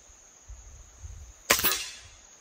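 A single sharp crack from a Nitro 800 air rifle bursts out near the end after a quiet stretch of low background rumble and a faint high whine, its report decaying quickly.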